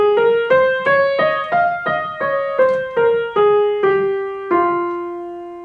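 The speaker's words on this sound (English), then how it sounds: "I will get a natural minor scale that sounds like this" F natural minor scale played one note at a time on a piano-like instrument, eight clear struck tones stepping upward at an even pace, with the last note left to ring and fade.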